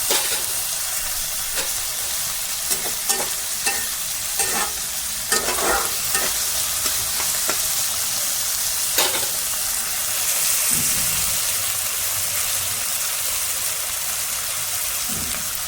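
Onions and green chillies frying in a pan for Maggi noodles hiss steadily, while repeated sharp spoon scrapes and knocks punctuate the sizzle at an irregular pace.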